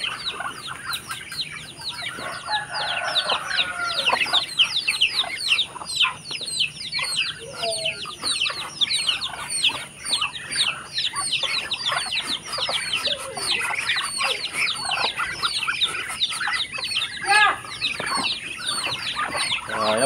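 Muscovy ducks squabble noisily at feeding time on a rural free-range farm, a dense chorus of overlapping clucks, hisses and chirps with occasional wing flaps, continuous and close.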